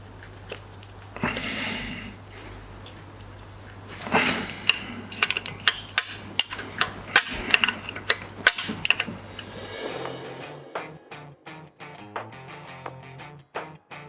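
A half-inch ratchet nips up camshaft bolts on a Ferguson 23C engine, giving a close run of quick, uneven clicking bursts that stops abruptly partway through.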